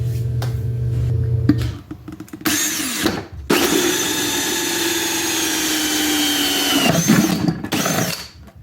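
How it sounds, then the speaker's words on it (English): A power drill whirs loudly in several bursts, drilling out a hole in the top of a painted bucket, with a short pause, then a long steady drilling run that winds down near the end. "we'll just probably drill out this hole in top"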